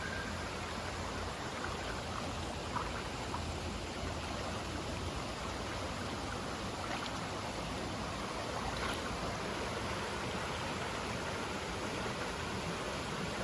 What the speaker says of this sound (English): there are some falls down there also, and even more around the bend